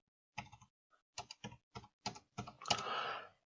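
Fingers tap out a short, uneven run of about eight keystrokes on a computer keyboard while naming a file, close and quiet, ending with a longer scraping press.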